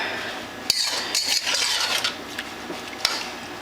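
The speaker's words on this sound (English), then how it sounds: "So while this is cooking, I'm going to wash dishes." Dishes, pots and cutlery clink and scrape while being washed, with bright metallic taps and rubbing over a steady run of water, close by.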